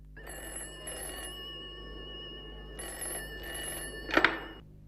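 A telephone in a Hindi radio drama rings in repeated double bursts of bright electronic trilling, heard close and clear over a faint background hum. A sharp clack near the end suggests the receiver being picked up.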